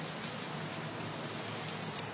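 Steady rain falls as a soft, even hiss of drops with no voices, faint and continuous for a couple of seconds.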